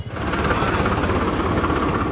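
Diesel tractor hauling drums to a fuel pump in Kaithal, Haryana, a steady rumbling engine drone with low throbbing pulses, close and continuous.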